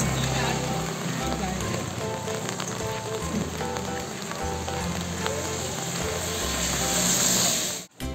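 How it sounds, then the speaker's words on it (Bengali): Continuous rain falls on a misty, cloudy October day at a Himalayan temple site, a steady dense patter on surfaces with low rumbling tones underneath, loud and unbroken until a brief dropout near the end. "কিন্তু তবুও বৃষ্টি হয়ে চলেছে কন্টিনিউয়াস"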